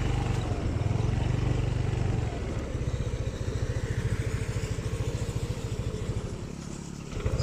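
Motorcycle engine idling and running close by at an outdoor free-flight gathering, a steady rapid low putter throughout, briefly louder at the start and then settling into an even rhythmic chug.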